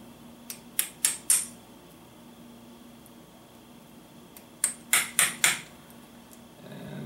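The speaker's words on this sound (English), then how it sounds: "I hold it in the palm of my hand and I give it a little tap" A DJI Phantom motor is tapped against a palm to pop its bearing out: two clusters of sharp metallic knocks, four taps in quick succession around one second and four more near five seconds, close and crisp with quiet between.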